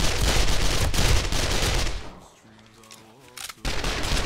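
Dense, continuous gunfire from a horde-night firefight in the survival video game 7 Days to Die, loud and sustained before dropping away briefly, with a few clicks and a voice under the lull, then resuming at full volume.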